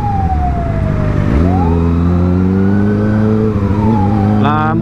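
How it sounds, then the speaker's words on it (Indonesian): A loud wailing ambulance siren sweeps down and up in pitch close by, over the rumble of an engine and traffic. "Ambulan."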